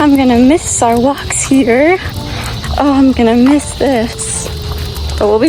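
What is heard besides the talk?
No everyday noise stands out behind the speech.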